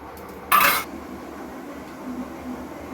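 Cardamom powder is stirred into sugar syrup for gulab jamun. One short bright clink of a spoon against the pot is followed by a quiet, low background with no talking.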